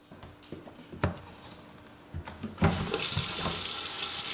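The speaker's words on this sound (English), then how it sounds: "we're going to fill this sink full of water" Water from a tap fills a sink for cleaning a muzzleloader. A few clicks and clunks come first, then a loud, steady rushing stream takes over and continues to the end.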